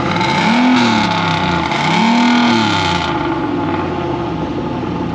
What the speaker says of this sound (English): give a rev for the fans.